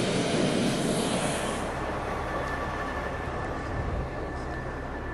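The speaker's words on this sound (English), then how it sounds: "Auxiliary Power Unit, APU, an onboard means of supplying power to an aircraft" Steady, loud mechanical roar of an aircraft auxiliary power unit, a small onboard engine at the rear of the aircraft, running; a dense whine and rumble that holds constant throughout.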